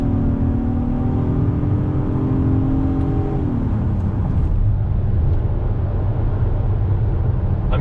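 A 2019 Acura MDX A-Spec all-wheel-drive SUV drives through tight, twisty bends, with a steady loud engine drone and tyre rumble whose tone drops as it shifts partway through, heard from inside with no talk.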